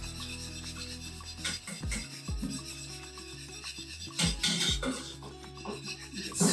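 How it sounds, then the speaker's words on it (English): A wire whisk stirs a lactose-free white sauce with cheese back and forth in a pan, giving close, repeated scraping rubs with brief pauses, and no talk is heard. "Stir it around backwards and forwards with your whisk."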